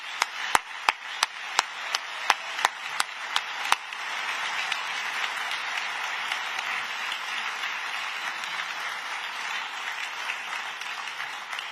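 An audience at an awards ceremony applauding honorees as they come to the stage: sustained, dense clapping from a crowd after several sharp, separate claps at the start.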